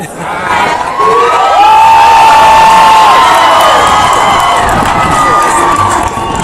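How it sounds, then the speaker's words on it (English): A large crowd at a military family day cheers and whoops loudly and continuously, a sustained roar with shouts rising over it, near and full. "if you help me by cheering loud enough"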